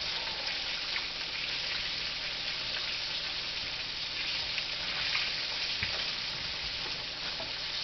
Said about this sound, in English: The key to frying chicken is your grease, really.